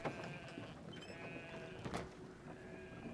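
Sheep bleating in the video game Brothers: A Tale of Two Sons, a few faint bleats over steady game ambience and background hiss, with a brief louder rustle near the middle.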